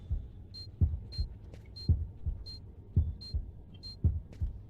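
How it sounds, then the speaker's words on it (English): A loud, booming heartbeat in the video game Fahrenheit: Indigo Prophecy pounds in a steady rhythm of about eight beats, each with faint high blips, over a low hum. No voices. "His heart is that loud that Tyler's going to hear it from one room over."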